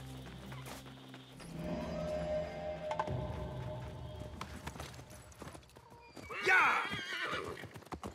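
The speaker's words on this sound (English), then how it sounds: "I prepared the horses." Horses in the Assassin's Creed video game whinny and snort while hooves clop, a loud neigh rising near the end over a steady game soundtrack and ambient bed.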